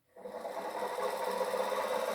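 A small battery-powered electric motor starts up and runs with a steady whirring hum, close and even after a brief silence.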